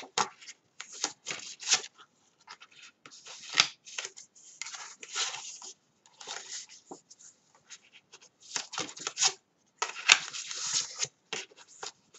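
Paper folded accordion-style for a concertina file, its folds pressed down with a black thread: crisp, close rustling and scraping in short irregular bursts with brief pauses, no voices.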